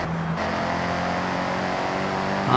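Car engine in the racing game Forza Horizon 6 accelerating, a steady, continuous engine drone holding level throughout with a slight rise at the end, no talk over it.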